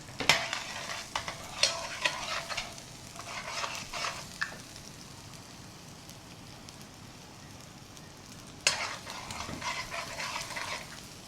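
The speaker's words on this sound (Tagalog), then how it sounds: "Panggisa lang natin na yung mga bawang." Garlic sautés in avocado oil in a pan with a soft, quiet sizzle, broken by scattered scraping and clicking stirring sounds that come in small clusters.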